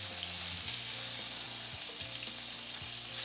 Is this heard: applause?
no